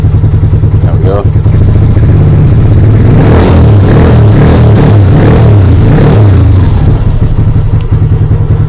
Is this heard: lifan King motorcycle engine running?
yes